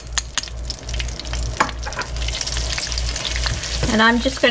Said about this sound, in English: cook this for a minute or so just to get the flour taste out of it